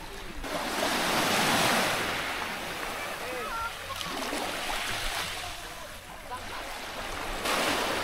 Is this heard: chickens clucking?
no